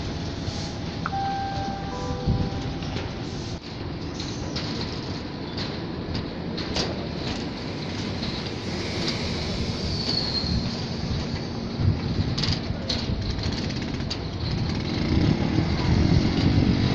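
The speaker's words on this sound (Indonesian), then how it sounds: "Sekarang berikutnya rangkaian masuk stasiun Juanda." A KRL commuter train rolls into a station, steel wheels grinding and squealing with a rising rumble that builds toward the end, an announcement-like tone briefly heard early on.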